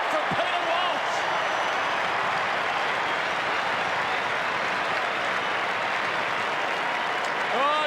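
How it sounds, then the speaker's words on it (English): A large Melbourne football crowd at the MCG roaring after a goal, a massive sustained cheer and applause that fills the whole stretch at constant loudness, with whistles rising near the end. "deafening sounds from this Melbourne crowd at the MCG"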